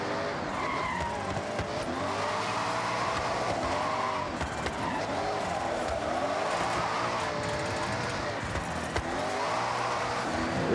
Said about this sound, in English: This car just likes to drift everywhere, especially on tarmac